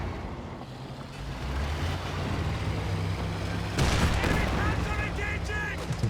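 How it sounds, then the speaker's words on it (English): A PTRS anti-tank rifle fires in the video game Company of Heroes 2, heard as sharp reports within a rumbling battle din. A louder burst of shots lands near the end, moderately distant and mixed with engine noise. "Only the PTRS is firing right now."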